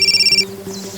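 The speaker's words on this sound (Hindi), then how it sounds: "मेरा फोन बज रहा है।" A short mobile phone ringtone pulses in quick, regular beeps, then cuts off, leaving a faint lower tone.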